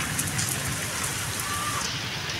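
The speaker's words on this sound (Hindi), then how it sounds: "गाइस आप आवाज़ सुन रहे हैं बारिश की" Heavy rain pours down in a steady, dense hiss and patter, with scattered drop impacts standing out against a constant wash of sound.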